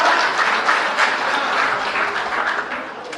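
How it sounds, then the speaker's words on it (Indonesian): An audience applauds steadily at a political gathering, a dense, continuous wash of many hands clapping at close range with no talk over it. "Beri tepuk tangan."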